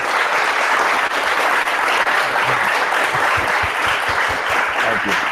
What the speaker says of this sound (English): Let's all give George a big hand clap and thank him for joining us.